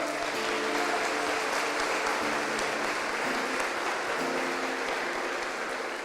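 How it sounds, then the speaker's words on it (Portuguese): Church congregation applauding during a worship service, steady dense clapping filling the whole stretch at fairly loud level without letup. "vamos aplaudir Jesus."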